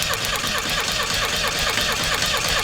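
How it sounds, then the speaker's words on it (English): A Volkswagen engine with the coil wire pulled from the distributor cap cranks on its starter, a loud, rhythmic churning chug that holds steady for the whole short stretch. "The internet said not to run it, just to crank it with the starter."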